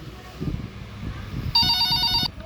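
A telephone rings in a video game, a bright electronic trill bursting in for under a second near the end over low, murmured talk.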